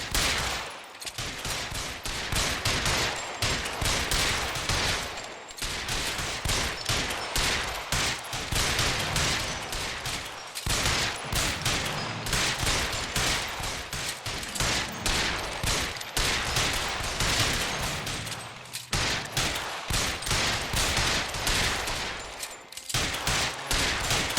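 Gunfire in the L.A. Noire video game during a shootout, with rapid, continuous bursts of shots nearly nonstop and only brief pauses between volleys, loud and close throughout.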